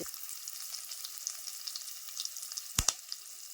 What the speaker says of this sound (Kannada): ಎಲ್ಲ ಚೆನ್ನಾಗಿ ಹುರಿದ ಮೇಲೆ ಈಗ ಇದಕ್ಕೆ ಇಂಗು ಹಾಕೋದು